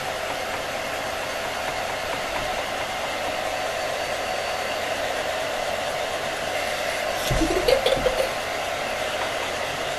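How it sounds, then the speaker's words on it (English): A hair dryer runs steadily throughout, blowing to dry a children's craft project, a constant broadband whoosh with a brief louder bump of handling near the end. "back away please from the hairdryer. And I'm drying mine now, halfway there"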